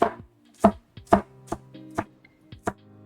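Knife chopping small white onions on a cutting board, about seven separate crisp cuts at an uneven pace, close and alone.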